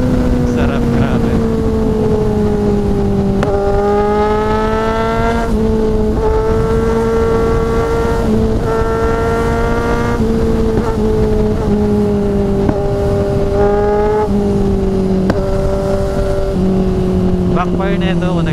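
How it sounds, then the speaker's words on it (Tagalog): A Kawasaki Z900 or Z1000 motorcycle engine revving repeatedly, loud and close, climbing and dropping in pitch with brief sharp pops between revs. "Backfire na ito"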